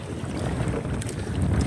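Heavy sea wind buffets a small paddled boat out on shallow crabbing water, a dense unbroken rumbling rush that swells slightly toward the end, close and loud with no voices.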